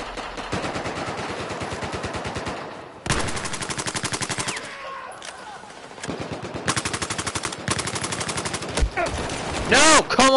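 Sustained automatic gunfire in Battlefield Hardline, loud and close. Rapid, evenly spaced bursts break off briefly and resume, with short gaps in between and a final burst of shots near the end.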